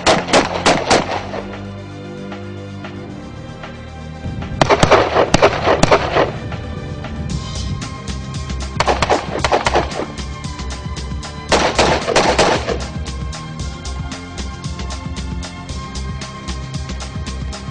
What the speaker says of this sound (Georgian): მათი მოქმედება დროის განსაზღვრულ მონაკვეთში მიზანში მაქსიმალურად სწრაფი და ზუსტი სროლით ფასდება.